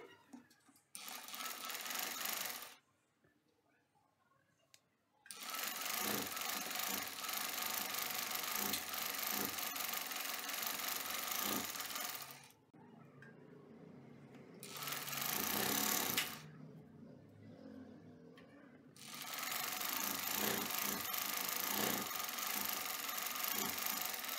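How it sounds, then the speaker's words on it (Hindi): A sewing machine stitches the back side strip of a baby top, running in long steady bursts close by with pauses between runs, its needle clatter fairly quiet. "अब बैक साइड की पट्टी की सिलाई लगाएंगे।"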